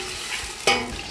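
Garlic and tomato are stirred in a frying pan, with a soft sizzle and one quick, sharp scrape of the spoon against the pan, close and fairly quiet, no talking.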